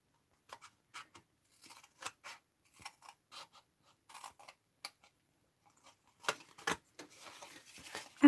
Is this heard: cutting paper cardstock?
yes